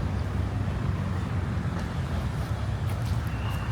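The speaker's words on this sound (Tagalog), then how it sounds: "yung ingay dito, tolerable siya kasi gawa ng sasakyan. Yung may ingay lang, yung motor." Steady traffic noise from passing cars and motorcycles on a city street beside a camping spot in front of Okada Manila, a dense low rumble that stays constant throughout with no voices.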